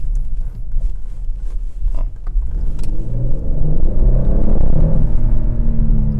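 A 2012 Porsche Cayenne with an armored body and a six-cylinder V6, driven out of Sport mode, holds its gear. The engine gives a loud, close drone that climbs steadily in pitch as it pulls under load, with road rumble underneath.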